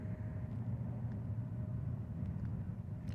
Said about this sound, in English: The train, that's different.